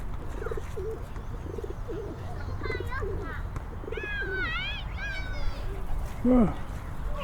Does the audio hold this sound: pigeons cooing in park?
yes